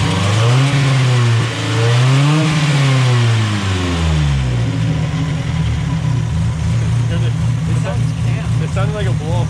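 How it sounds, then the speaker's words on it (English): A Mazda Miata engine with an aftermarket cam revs up and down in swells with a blow-off valve sound, then settles into a steady rumbling idle; a voice talks over the first few seconds. "It sounded like a blow-off valve too."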